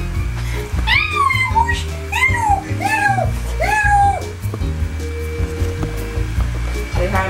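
A household cat in a Florida vacation home gives several short rising-falling meows spaced about a second apart, with a steady hum and a low rumble behind them.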